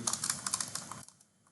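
Rapid keystrokes on a computer keyboard, a quick close run of clicks for about a second before stopping, leaving faint quiet.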